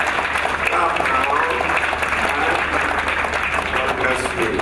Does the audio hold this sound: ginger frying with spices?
no